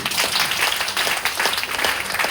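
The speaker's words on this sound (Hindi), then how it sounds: "एक बार जोरदार ताली" Audience in a seminar hall clapping together in a steady, dense burst of applause, fairly loud and continuous with no talk over it.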